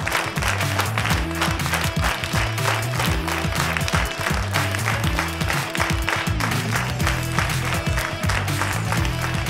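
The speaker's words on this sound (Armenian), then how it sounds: "դե հիմա ծափարություններ" Audience applause at a television show, a steady wash of clapping over loud, rhythmic band music that runs the whole time.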